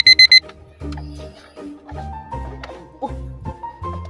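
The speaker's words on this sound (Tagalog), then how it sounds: "Nag-alarm." A short burst of rapid high electronic alarm beeps sounds loud at the start, then stops as people talk and laugh over it for the rest of the moment.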